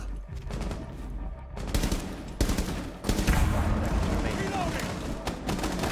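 Bursts of gunfire in a video game, with dense crackling shots and loud impacts spread through the clip. Game noise and voices are mixed in.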